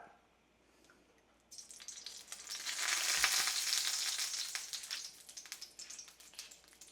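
Avocado oil hitting leftover water droplets in a hot pan, bursting into a loud crackling sizzle after a quiet start, peaking then settling into steady spitting and popping.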